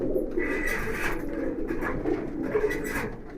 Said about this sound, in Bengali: এই যে দেখেন মাশাআল্লাহ খুব সুন্দর একটা কবুতর।